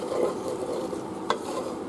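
Potatoes are stirred into a pot of hearty vegetable soup, a steady wet sloshing and scraping with soft sizzle and a couple of sharp spoon clicks against the pot, close and unaccompanied by talk.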